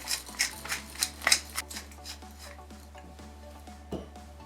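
Seasoned ingredients for a vegan currywurst, finished with cracked pepper, being stirred together in a bowl: a run of scraping, clattering stirs in the first second and a half, then quieter shuffling and one more clink near the end over a steady low hum.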